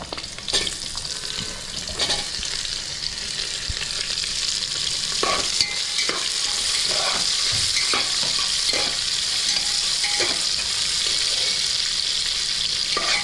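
Long-sliced large onions sautéing in oil with cinnamon and cloves, a constant bright sizzle broken by repeated sharp scrapes and knocks of a spoon stirring against the pan, near and alone.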